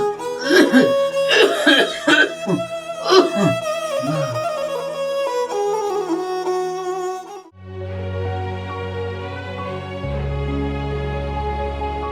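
A person coughs repeatedly in a Nepali family drama, several harsh close bursts in the first few seconds over soft background music, which then carries on alone.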